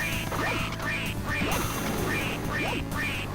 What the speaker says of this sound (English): in 2 minutes you're supposed to shoot as many ducks as you can